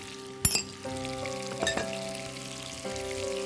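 Chicken meatballs sauté in a pan with onion rings and a spoonful of garlic paste, a gentle steady sizzle punctuated by a couple of sharp clinks and scrapes early on.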